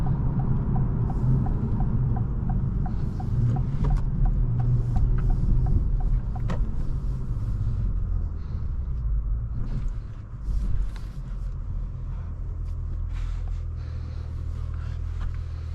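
Engine of a 2025 Acura TLX Type S heard from inside the cabin while driving, a steady low rumble that swells and eases over about sixteen seconds with road noise and small interior clicks.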